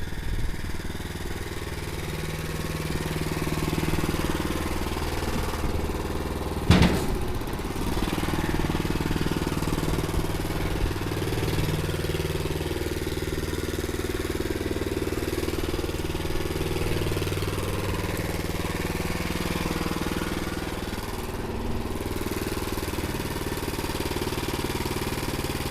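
A conveyor's motor runs steadily at a mid-pitched hum throughout while the conveyor is lowered, with a single sharp clank partway through.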